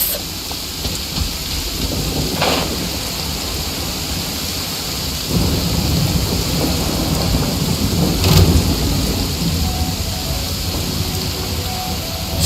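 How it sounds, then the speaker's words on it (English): Thunder rumbles over steady rain in the Genshin Impact video game, with two sharp cracks standing out against the continuous broadband downpour and low rolling booms throughout. "What's a little thunder when even lightning wouldn't dare strike our path?"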